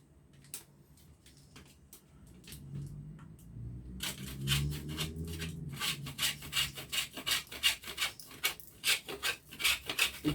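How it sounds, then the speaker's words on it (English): Food being rubbed against a hand grater while topping a banoffee pie, a quiet scraping at first, then a steady run of rhythmic rasping strokes that grow louder and closer. "grate this up"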